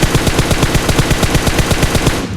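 An M249 light machine gun in a battle-royale shooter fires a sustained, loud burst of rapid, evenly spaced shots with no speech over it.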